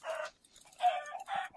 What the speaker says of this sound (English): Why is there a chicken out with the pet,